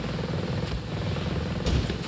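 Pursuing drones in the video game Ghost Recon Breakpoint make a helicopter-like whirring buzz with a steady rhythmic pulse, holding a constant level with one brief louder burst near the end.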